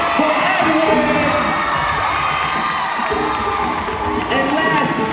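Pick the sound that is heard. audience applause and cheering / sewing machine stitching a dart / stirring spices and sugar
audience applause and cheering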